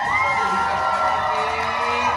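A crowd of spectators cheering on the blue team at a dog show race, heard as a loud, continuous blend of shouts and excited children's voices close by.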